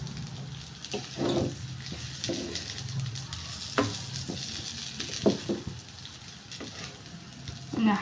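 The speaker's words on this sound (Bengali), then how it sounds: "হালকা করে একটু ভেজে নেবো" Rice grains frying lightly in a pan with cinnamon, cloves and cardamom for basanti polao, a soft steady sizzle with intermittent stirring scrapes and clinks, moderately close, with no speech.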